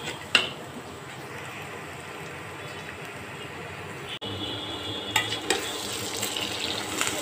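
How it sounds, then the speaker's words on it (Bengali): Chopped onion fries in a pan with salt for a tangra fish bhuna, a steady hissing sizzle with a few spatula scrapes and a brief clatter partway through. "ট্যাংরা মাছ ভুনার জন্য এখানে পেঁয়াজ কুচি বাদামি কালার করে ভেজে নেব।"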